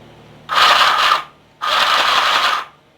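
A cheap mini sewing machine, just unboxed, runs in two loud, steady whirring bursts of roughly half a second and a second each, close to the mic, separated by a short pause.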